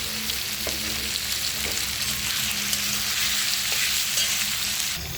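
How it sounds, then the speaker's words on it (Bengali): Prawns frying in a pan with onion and green chilli, a dense continuous sizzle with stirring scrapes throughout, close and fairly loud, with no talking. "চিংড়ি মাছগুলো আলাদাভাবে ভাজি নিই,"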